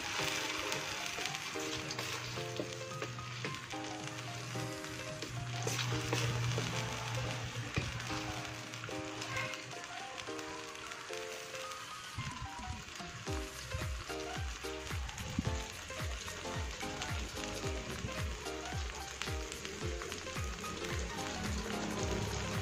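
Spices for tuna rendang sizzle and fry steadily in a pan while being stirred, a continuous crackling hiss with scraping stir sounds throughout, close and loud, with no talking.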